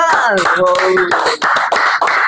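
Audience applause at a wedding-planning talk event: a voice speaks at first, then a dense burst of clapping rises and carries on briskly to the end.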